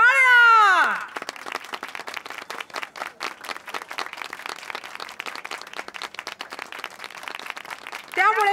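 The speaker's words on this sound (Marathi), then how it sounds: "टाळ्या!" A school audience at a flag-hoisting ceremony bursts into sustained applause, with dense, steady clapping from many hands lasting several seconds, framed by a voice speaking briefly before and after.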